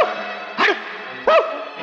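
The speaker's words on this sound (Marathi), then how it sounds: "कुत्र जरा जास्तीच भुंकायला लागले" Dogs barking, two short sharp barks about a second apart, fairly close and loud over a quiet background hum.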